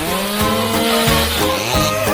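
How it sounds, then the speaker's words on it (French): A power saw buzzes loudly with its pitch rising and dipping as it bites into material, close by and continuous. "J'ai besoin d'une scie."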